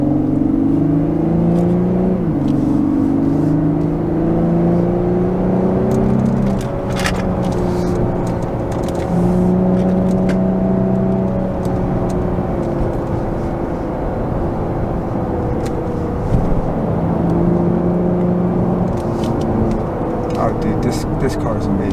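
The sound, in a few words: 2022 Lexus IS350 F Sport AWD accelerating through corners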